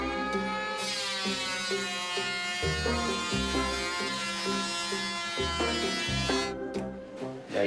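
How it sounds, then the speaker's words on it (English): A power tool chamfers a timber edge during renovation of a 160-year-old coach house, giving a loud, close, steady buzzing whine whose pitch dips and recovers several times as it bites into the wood. "We now need to chamfer this."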